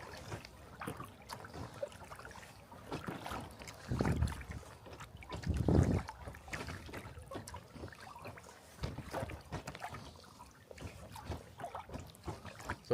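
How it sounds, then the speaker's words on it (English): Water lapping and pattering beneath a small boat on smooth, flat water in a light breeze, a soft irregular trickle with a few louder slaps, close by and alone under faint wind. "Pitter patter underneath the boat."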